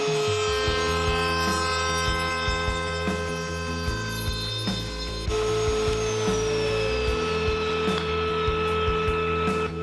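Router with birdsmouth jointing bits runs with a steady loud whine and hum while cutting wooden pieces, with repeated thumps and knocks of the workpiece, then the motor winds down toward the end.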